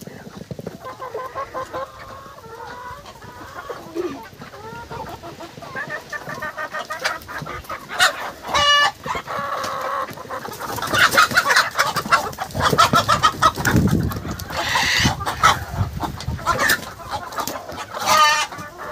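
Village desi chickens cluck and squawk in agitated bursts while being chased for catching, their calls rising and falling in loud, irregular flurries with wing flaps and scuffling.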